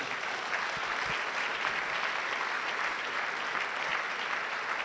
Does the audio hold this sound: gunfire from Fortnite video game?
no